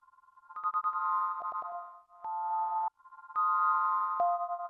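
A Chase Bliss Mystery Box pedal set fully wet, without reverb, chops a sustained tonal sound into stuttering slices: bright held notes that start and stop abruptly, with rapid repeated clicks and short gaps between fragments.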